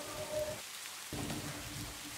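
Steady rain falling outdoors in stormy weather, a faint continuous hiss with a brief dip in the middle, no talking.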